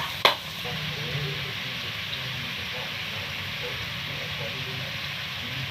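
Squash frying in a pan, a steady close sizzle that opens with a sharp clack as it goes in, then continues evenly throughout, no talk.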